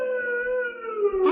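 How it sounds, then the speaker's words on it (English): Distant prison siren in a 1945 radio drama, a single sustained wailing tone that holds steady and then slides downward, heard alone and fairly clear. "And then I heard that siren in the distance."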